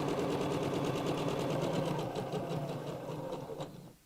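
A domestic sewing machine stitches a fabric heart reverse-appliqué mat, running steadily and loudly with a rapid rhythmic needle chatter before slowing and stopping near the end, with no talking.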